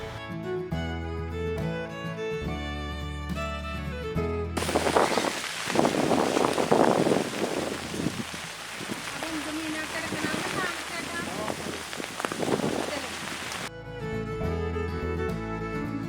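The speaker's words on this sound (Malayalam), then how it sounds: "മഴ ചെറുതായിട്ട് പെയ്യുന്നുണ്ട്" Light rain patters steadily outdoors in Varapuzha for about nine seconds, a soft even hiss with some wind, framed by music before and after.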